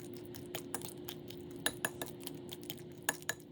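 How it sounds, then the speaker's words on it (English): Overripe bananas are mashed with a metal fork in a bowl, giving soft squishing under a run of sharp metallic clinks and taps of fork against the bowl, close and fairly quiet. "then mash the bananas using a fork"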